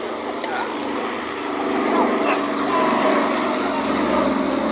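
A Douglas Dakota DC-3 propeller aircraft drones steadily overhead at an air show, its engines a continuous loud roar that swells slightly midway, with voices talking beneath.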